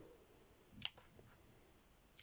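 Scissors snip paper into zigzags in a few quick, crisp, close cuts: a pair of snips near the start and one more at the end, all quiet, with no talking.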